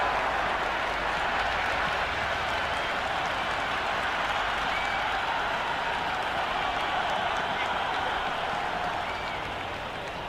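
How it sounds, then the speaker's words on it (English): A stadium crowd in the Cricket 26 video game cheers and applauds steadily during a Pakistan vs Australia one-day international, a dense, even wash of clapping and roaring that holds for about ten seconds before easing slightly. "The crowd are loving it."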